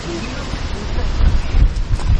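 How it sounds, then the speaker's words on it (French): Steady, cold wind buffeting a microphone outdoors at a fishing spot, a broad low rumble that swells in gusts toward the end. "Le vent il est frais en plus."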